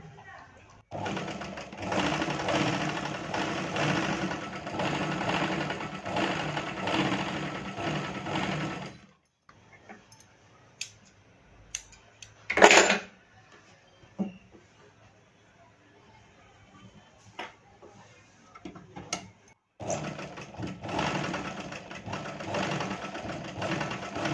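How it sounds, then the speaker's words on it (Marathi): A sewing machine stitches a strip for a blouse in two loud, steady bursts of rapid mechanical rattling, separated by a quieter stretch with handling clicks and a brief sharp noise. "हे आपण पट्टीला त्याचं टीप मारून घ्यायचं असं."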